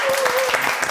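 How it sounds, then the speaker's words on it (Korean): Audience applause at a Korean lecture talk show, a brief burst of clapping from a crowd, close and fairly loud. "박수로 듣겠습니다."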